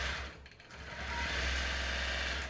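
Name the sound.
Gammill longarm quilting machine stitching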